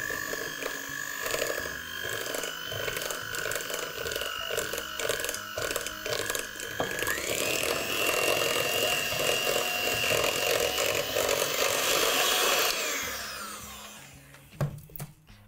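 Electric mixer beating pink velvet cake batter, a continuous loud whirring drone that steps up in pitch partway through, then winds down and stops near the end with a few clunks, close and without talking.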